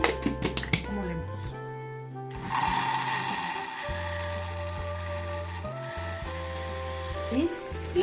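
Blender grinding onion, garlic and a little water for homemade picadillo, a steady motor whir that starts after a few knocks and runs close and loud, with brief changes in pitch as it churns.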